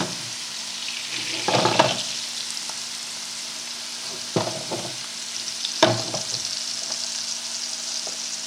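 Scallops searing in a hot pan give a steady crackling sizzle, with a few louder bursts as the pan is shifted around; no voices.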